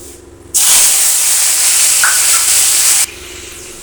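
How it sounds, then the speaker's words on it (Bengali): Vegetables frying in hot oil with cumin and dried chili for borir jhol give one loud, steady hiss that bursts in abruptly, holds for about two and a half seconds, then cuts off. "জিরে আর শুকনো লঙ্কা দিয়ে তারপর সবজিগুলোকে ভেজে নেব"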